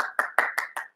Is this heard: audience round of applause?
yes